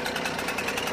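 Jawa Babetta moped's small engine idles just after starting, a steady buzzing putter heard close for under a second with no voices.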